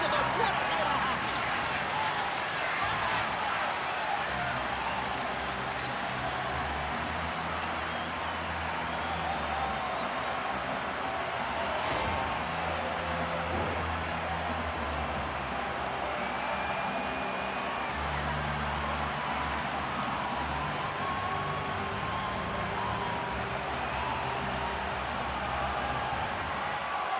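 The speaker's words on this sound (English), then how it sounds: "This crowd is on fire right now." Hockey arena crowd in an EA Sports game during a shootout: a dense, steady roar of cheering and chanting fills the space throughout, with an announcer's voice talking over it.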